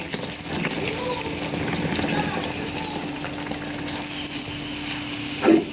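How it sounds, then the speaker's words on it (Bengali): Pakan pitha, a Bangladeshi rice-flour cake, deep-frying in hot oil, giving a steady close sizzle and bubbling throughout with a brief louder clatter near the end. "ফুলকো ফুলকো তেলের পিঠা, আমি ভাবতেও পারিনি এত সুন্দর পিঠা আমি ভাজতে পারবো"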